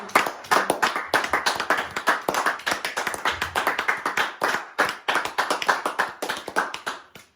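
A church congregation claps together in a fast, steady rhythm of sharp, bright handclaps, loud and close, sustained through a burst of worship acclaim with no talking over it.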